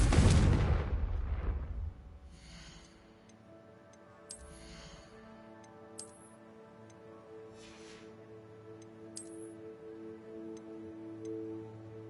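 A Confringo blasting spell from the video game Hogwarts Legacy detonates loudly and close at the start, then rumbles away into a ringing magical tone, with a few faint whooshes and ticks after it.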